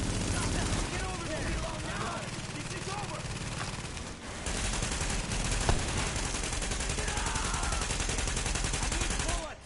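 Enemy gunfire rattles almost nonstop in The Division video game as hostiles shoot up a street, with overlapping bursts and a short lull midway, while players talk over the din.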